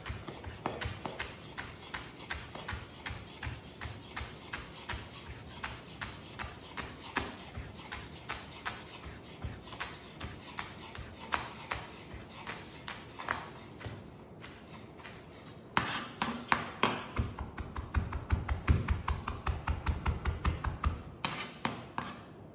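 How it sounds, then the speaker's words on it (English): A knife chops a stalk of spring onion finely on a board in rapid, even taps, close and crisp, with a short pause before a louder, faster burst of chopping. "you're gonna take a stalk of spring onion and try to chop it as finely as you can"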